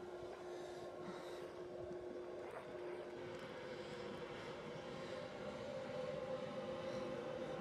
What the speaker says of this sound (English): LNER passing Longlands Junction